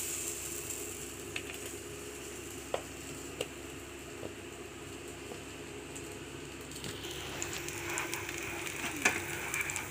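Plantain and fish roast frying in a pan, a steady soft sizzle running throughout with faint scattered pops and a slight swell in crackle toward the end, no voices.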